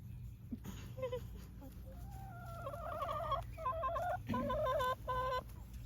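Several hens cluck and squawk close by, rising into a run of agitated, stuttering calls over a low background hum.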